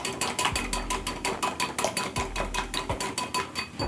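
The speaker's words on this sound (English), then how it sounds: "I'll whisk this together. Until well combined." Spices being whisked together in a bowl, a rapid regular rattling of metal against the bowl in quick strokes, close and moderately loud, with no voices.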